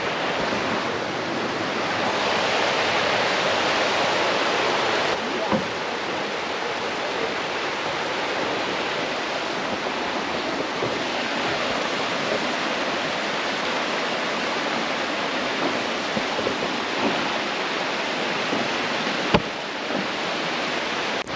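A rushing mountain creek in Banff National Park gives a steady, full roar of water, constant and close, with no voices, holding evenly for about twenty seconds.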